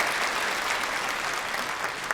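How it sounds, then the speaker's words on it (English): Steady, dense applause from a large audience at a peace commemoration ceremony, many hands clapping evenly and continuously without a break. "we would like to express our gratitude once again with a loud applause"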